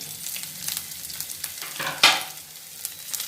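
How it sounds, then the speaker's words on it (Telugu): Chopped garlic and ginger fry in hot oil for gobi manchurian, a continuous crackling sizzle with light stirring scrapes and a sharper burst of spatter near the end, close and clear with no talk. "చూడండి, వేగుతూ ఉంది కదా"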